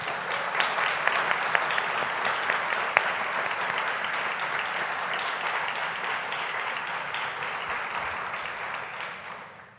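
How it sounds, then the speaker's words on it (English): An audience gives a sustained round of applause for a group of honored members at a celebration event, a steady wash of many hands clapping that holds evenly and then fades out at the end. "Let's have a fantastic round of applause."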